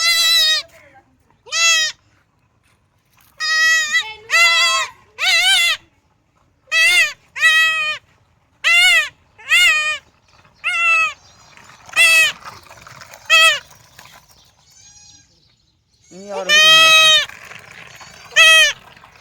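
A goat bleats loudly and repeatedly during castration, with about a dozen close, strained cries in an irregular rhythm separated by short quiet gaps.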